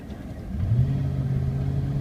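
A heavy 11,000-pound truck accelerates with a steady, loud mid-frequency engine rumble that swells and holds as it pulls away close by, with no talking.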